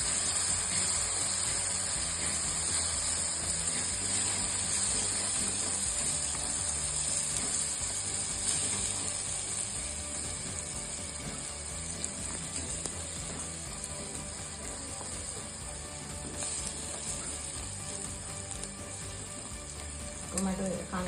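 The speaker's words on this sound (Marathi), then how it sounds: "टोमॅटो कांदा छान मॅश झालेला आहे आणि सर्व मसाले सुद्धा मिक्स झालेले. साधारण 3 ते 4 मिनिटं असं कंटिन्यू परतून घ्यायचं आहे." Tomato, onion and spices sizzle steadily as they are sautéed in a pan for dhaba-style paneer bhurji, a continuous frying hiss with occasional stirring scrapes running the whole time.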